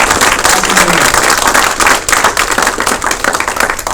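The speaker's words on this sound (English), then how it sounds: "Ladies and gentlemen, round of applause." Audience applause at a military retirement ceremony: loud, dense clapping from a crowd, sustained and steady throughout.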